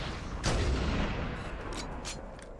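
A sniper rifle headshot in the video game Halo: Combat Evolved Anniversary, a loud booming shot with a rolling, echoing tail over dense game noise, followed by a couple of fainter sharp reports.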